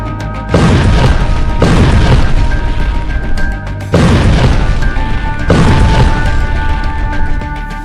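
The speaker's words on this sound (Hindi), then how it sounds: "हमास ने फोड़ दिए टैंक।" Tanks are hit by explosions in war footage from Gaza. Four heavy, loud booms arrive one after another, each leaving a long, rumbling roar that drags on before the next blast.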